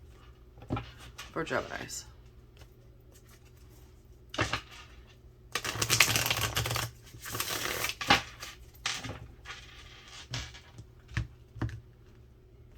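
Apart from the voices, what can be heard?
tarot cards being shuffled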